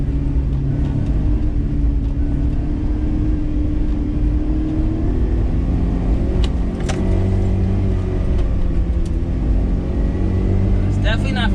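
A kei van engine drones steadily and then revs higher, its pitch climbing as it accelerates, heard close from inside the cab.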